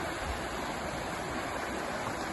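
Small Falls waterfall in Maine, heard as a steady, full rush of falling water close by, continuous and even throughout with no voices.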